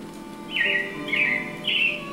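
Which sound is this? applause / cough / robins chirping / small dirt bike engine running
robins chirping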